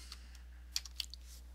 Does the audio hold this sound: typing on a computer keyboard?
yes